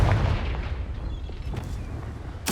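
Fire spell Confringo exploding in Hogwarts Legacy, a heavy booming blast that rumbles and fades into a low roar, ending with a sharp burst.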